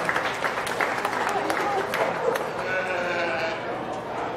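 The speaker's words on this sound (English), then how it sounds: "Let's give these kids a round of applause." An audience applauding kids at a county fair sheep show, clapping busily over sheep bleating nearby and voices talking in the background.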